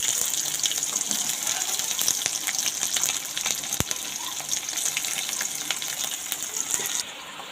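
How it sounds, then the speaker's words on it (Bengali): Onion is tossed into hot tempering oil for a vegetable dal, giving a steady, close, crackling sizzle that continues throughout with no talking. "আমি ফোড়নটা এখানে পেঁয়াজটা দিয়ে দিচ্ছি"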